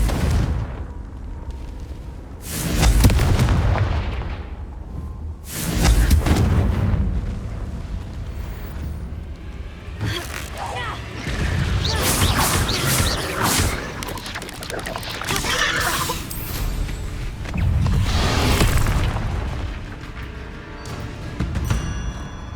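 Confringo fire spell explosions in the video game Hogwarts Legacy, loud booming blasts and fiery bursts repeating over a dense rumbling, crackling game soundscape.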